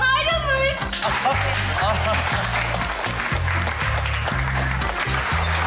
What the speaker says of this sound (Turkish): Alkış olmazsa olmuyor.